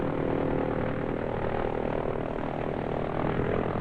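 A de Havilland Tiger Moth biplane flying overhead, its propeller engine giving a steady, droning hum with a low buzzing tone, constant in loudness and unbroken throughout, with no voices.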